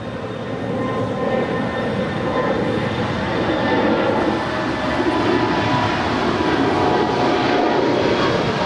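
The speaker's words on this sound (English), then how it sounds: "I have the American 777-300ER making their way down for a south side departure on 25 right" American Airlines 777-300ER airliner departing LAX on runway 25 right, a steady broadband jet roar with a faint high whine, sustained and evenly loud at a distance with no voices.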